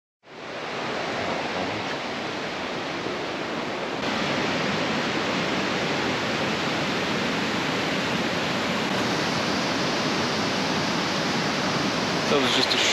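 Waterfall in Linville Gorge, a loud, steady broadband rush of falling water that fills the whole stretch without a break.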